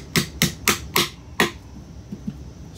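A hammer tapping a pin into the trigger group of a Citadel KATAC-ATA12 shotgun: five sharp metallic taps in quick uneven rhythm, close and clear, then two faint light taps.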